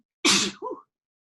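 A single loud, close sneeze, with a sharp explosive burst followed by a brief softer vocal tail, then quiet.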